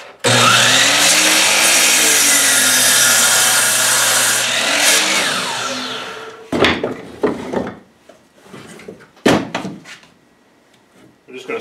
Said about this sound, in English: So I'm going to cut it off right here at this line with the miter saw,